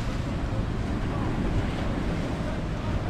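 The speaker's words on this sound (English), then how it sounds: "Some waves rolling in" Ocean waves rolling in at Corpus Christi near the USS Lexington, a continuous low wash of surf heavily mixed with wind buffeting the microphone.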